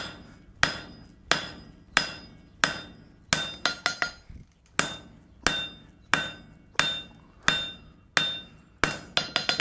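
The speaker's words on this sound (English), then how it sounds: "we want to take and hammer this down enough that we can create a narrower profile" Hammer blows ring out on hot steel against an anvil in a steady rhythm, about a dozen and a half strikes with a quick flurry midway, loud and close, forging a fuller.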